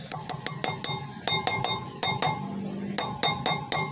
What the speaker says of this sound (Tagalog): Tapos pukpukin natin ng martilyo.